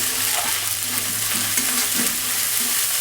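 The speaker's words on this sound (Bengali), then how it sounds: "এবার দিয়ে দেব রসুন পেস্ট।" Garlic paste frying in a pan for a katla fish curry with taro, a dense close sizzle with quiet spatula stirring and faint scraping, no talking.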